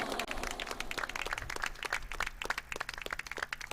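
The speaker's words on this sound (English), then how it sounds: "huge round of applause." Audience applause at a National Sports University foundation day ceremony in Manipur, honoring a coach and manager after a gold medal; steady clapping fills the hall without a break, with dense crisp claps heard from a moderate distance.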